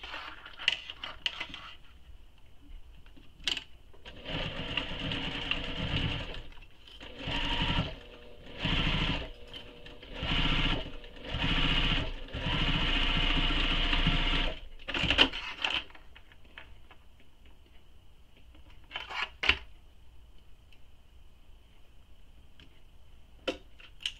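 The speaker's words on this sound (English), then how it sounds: "Going to stitch where the curved edge of the flap is." A sewing machine stitches along the curved edge of a bulky wristlet flap, running in a series of short bursts with pauses, then a longer steady run, close and fairly quiet, with small clicks and handling noises before and after.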